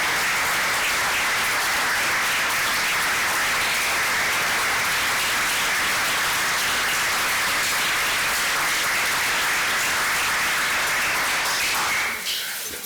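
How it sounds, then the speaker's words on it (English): An audience at a school board meeting applauds with sustained, dense, loud clapping that fills the room and tapers only at the very end. "They're not going to clap as much for me."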